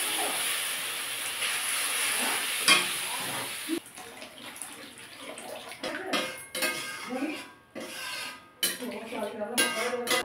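Water poured into a pan of frying spiced masala for a rohu fish curry, a steady hiss for the first few seconds, then softer bubbling and clinking of a utensil as it settles and is stirred.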